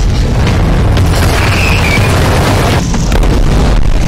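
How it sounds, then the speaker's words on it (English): A huge movie explosion erupts as a loud, sustained booming roar with deep rumble and crackling debris filling the whole stretch, close and overwhelming, with no voices. "then an explosion came out of nowhere"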